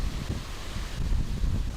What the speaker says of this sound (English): Getting windy a little bit.